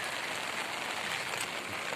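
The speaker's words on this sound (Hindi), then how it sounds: "भारी बारिश हो रही है भैया।" Heavy rain pours steadily as a dense, continuous hiss across the whole stretch, close and even with no break, over flooded riverside fields in a disaster-hit farming area.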